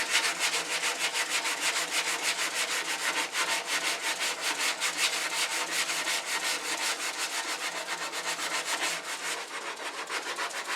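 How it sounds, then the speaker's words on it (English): A hand sander works the side edges of a turned wooden bowl, giving a steady, close rasping hiss with a fast, even pulse that runs on without a break. "Now I'm going to use a hand sander to get these side edges."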